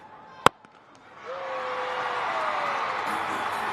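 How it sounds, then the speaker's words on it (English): At a West Indies cricket match, a sharp crack of bat on ball is followed by a large stadium crowd cheering and roaring after a six. The cheer swells and is sustained, with a whistle rising through it. "Listen to the crowd."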